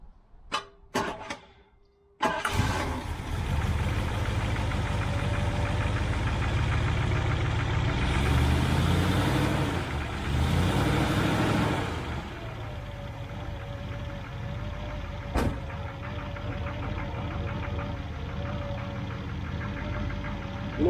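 A Triumph Stag engine fitted with Stromberg CD175 carburettors starts up after a few clicks and settles into a steady, loud idle with a slight knocking beat, the idle dropping a little partway through and carrying on unaccompanied.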